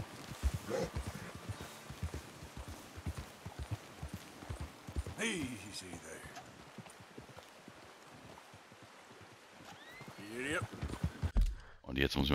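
Rhythmic hoof clip-clops from a horse trot steadily along in the video game Red Dead Redemption 2, mixed with game sound effects and intermittent background noise, with a brief whooshing burst near the end.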